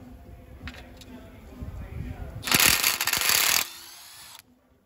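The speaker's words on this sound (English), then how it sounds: "let's get these pan bolts out of here" Ratcheting and wrench work on the oil pan bolts of a Toyota 1JZ engine in a Lexus IS300, close and mechanical, building to a loud burst of clicking and metal rattle before cutting off, with a voice faintly in the background.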